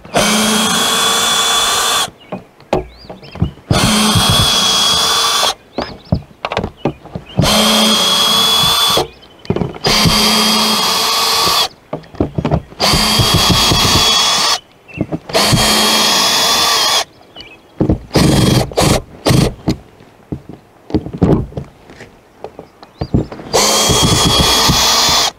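A power drill backs screws out of a broken skylight in repeated loud whirring bursts, each a few seconds long, split by short pauses as it moves from screw to screw.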